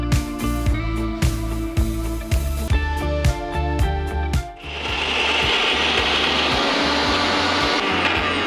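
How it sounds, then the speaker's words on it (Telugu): A kitchen mixer grinder blends boiled white beans with a little water in a mixie jar: several short, loud pulsed runs, then a steady, close, continuous whirring grind. "సో కొన్ని మనం దీన్ని బ్లెండ్ చేయాలి"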